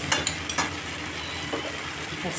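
Onions frying in hot oil in a home kitchen, alongside meat marinated with salt and turmeric. A continuous sizzle is heard with several sharp utensil clinks near the start and soft stirring throughout.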